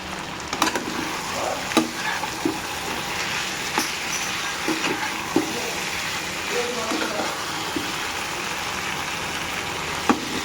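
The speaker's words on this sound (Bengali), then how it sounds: "এবার আলুগুলো ভেজে রাখা আলুগুলো দিয়ে দিলাম।" Fried potatoes tipped into a pan of sizzling oil in a home kitchen while chicken curry cooks, giving a steady broadband hiss with occasional sharp clatters and stirring knocks, close and fairly loud throughout.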